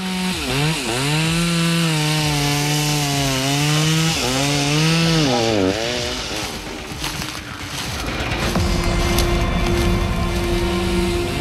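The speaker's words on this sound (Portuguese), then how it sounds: "O ronco da motosserra quebra o silêncio" A loud chainsaw revs up and down in pitch, then settles into a rough, steady grind as it bites into wood, in Brazil's Atlantic Forest.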